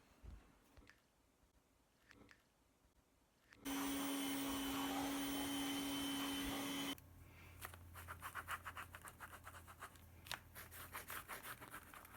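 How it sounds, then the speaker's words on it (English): A vacuum cleaner roars loudly for a few seconds with a steady high whine, then shifts to a rougher, scratchy sucking sound as it moves over something. "I'm going to vacuum"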